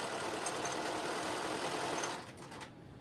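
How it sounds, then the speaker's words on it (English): A sewing machine runs steadily, stitching a skinny double-folded hem for jumpsuit strings. The whirring stays constant and close, then eases off near the end. "Just a double fold and stitch."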